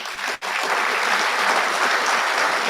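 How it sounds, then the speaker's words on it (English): An awards dinner audience applauds in a dense, steady burst of clapping that stays loud and continuous throughout, heard up close with no talking over it. "one more round of applause."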